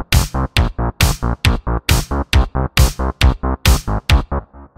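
Pulsing synthwave bass from the Pigments synth plays steady, punchy eighth-note pulses over a driving drum beat with crisp snare hits, loud and upfront with no voices.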